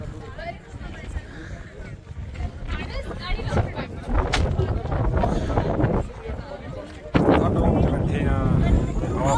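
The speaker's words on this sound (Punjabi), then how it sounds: "ਹੁਣ ਬਹੁਤ ਹਵਾ ਚੱਲਦੀ ਪਈ ਆ" Strong wind on the Nathatop hilltop buffets the microphone with a constant roaring rush, while people talk over it throughout.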